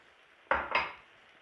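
A utensil clinks twice against a bowl while stirring a tomato and egg mixture, two close, bright scraping knocks in an otherwise quiet kitchen.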